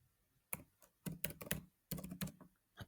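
Fingers type on a computer keyboard in quick clusters of close, crisp key clicks separated by short pauses, with no voices.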